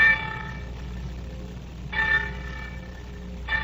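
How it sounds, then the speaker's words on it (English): Church bells clang in repeated bright bursts, about three strikes spaced roughly two seconds apart, each ringing out over a quiet, low background hum. "the winds carried you the clanging of the church bells"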